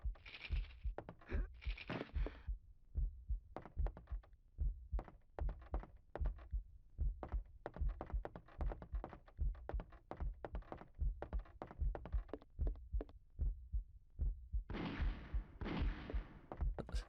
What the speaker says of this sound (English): Why is there a heart beating?